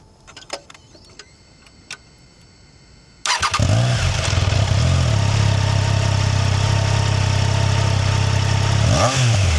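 A 2022 Triumph Trident 660 motorcycle: a few soft clicks, then the engine fires and settles into a loud, steady, close idle with a smooth, even rumble.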